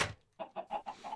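Minecraft chickens cluck in a quick run of five short, soft clucks after a brief breathy noise, close and faint with no talk.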